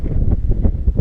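Wind buffets the microphone on an exposed hilltop, a steady low roar with gusting swells throughout and no other clear sounds.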